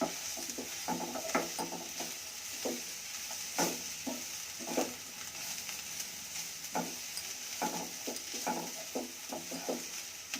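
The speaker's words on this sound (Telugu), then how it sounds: "కొబ్బరి తురుము వేసి కొంచెం సేపు అంతా కలపాలి" A spoon scrapes and stirs grated coconut through vangi bath, a South Indian eggplant rice, in a pan, with soft intermittent scraping strokes over a faint steady sizzle, close and quiet.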